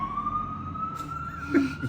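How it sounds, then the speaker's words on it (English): A loud, steady ambulance siren wails from close by as it passes on a Jersey City street, over low road rumble, with a brief thump near the end. "You can't talk over the ambulance."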